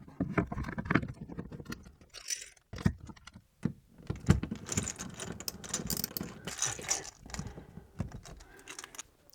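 Ratcheting clicks and gritty scraping as a screw is tightened by hand to fix a hook into plasterboard, close and intermittent with short pauses between bursts of turning.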